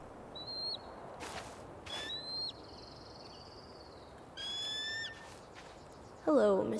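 Eagle calls ring out in the video game Tell Me Why, several thin high whistling cries spaced apart over a steady outdoor wind-like ambience, fairly distant and faint.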